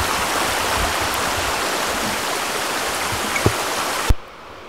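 A stream flows beside a hiking trail, a steady close rush of water that fills the scene, with a couple of brief thumps near the end before it cuts to near silence.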